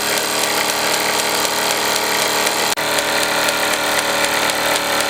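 A Meccano MEC1 model steam engine drives a small six-tool workshop with a model grinder and polisher, giving a steady, close mechanical whirr with a brief dropout midway and no talk.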